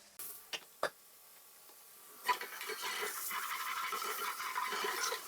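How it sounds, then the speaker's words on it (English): Shallots with a touch of salt start sauteing in a pan, a couple of sharp clicks giving way to a soft, steady sizzle that rises and holds close by. "So those shallots that we have, we're going to start sauteing."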